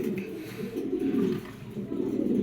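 A male Afsan Gijel Spanish Podar pigeon coos in a low, steady, throaty murmur, close and continuous.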